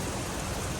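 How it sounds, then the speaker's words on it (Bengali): Rain falls heavily and steadily in a dense, even hiss of drops, with no voices. "ও ভাই, এখন বৃষ্টি হইতেছে"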